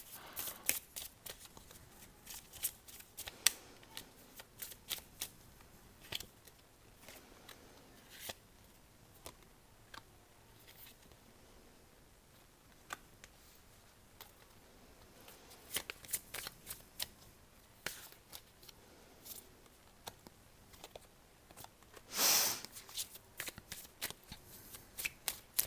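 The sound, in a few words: shuffling cards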